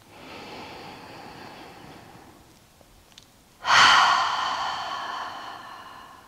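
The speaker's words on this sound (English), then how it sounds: "Take a couple of deep breaths." A single deep breath during a yoga session: a soft, faint inhale fades over the first few seconds, then a louder, close exhale rushes out and slowly trails away.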